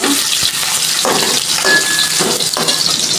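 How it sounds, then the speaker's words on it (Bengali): Prawns frying in oil in a wok (kadai) make a loud, close, continuous sizzle, with bursts of crackle as they are stirred. "এখন চিংড়ি মাছ দিয়ে দিলাম, হালকা ভাজা ভাজা করে নেব"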